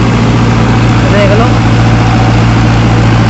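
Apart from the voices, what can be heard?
Arjun Novo tractor running VS Punni thresher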